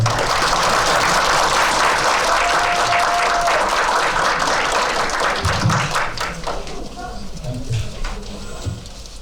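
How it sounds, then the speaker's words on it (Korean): Audience applause welcoming a lecturer for a tax-law talk: dense, loud clapping from a crowd that carries on for most of the clip, then thins out toward the end. "힘찬 박수로 안순남 대표님을 한번 모셔보도록 하겠습니다"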